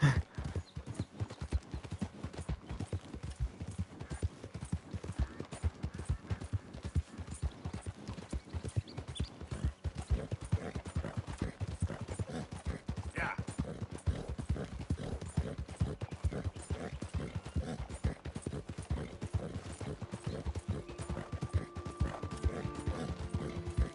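A horse ridden in Red Dead Redemption 2 gives a steady, unbroken clip-clop of galloping hooves, close and fairly loud, lasting throughout with faint mechanical creaks beneath.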